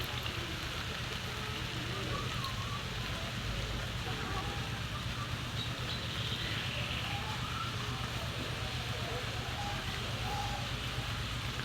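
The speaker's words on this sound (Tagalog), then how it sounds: "Dito po inaambo na naman" Light drizzle falling outdoors at a market area, a faint, steady hiss of fine rain that runs unbroken the whole time with no distinct drops or voices.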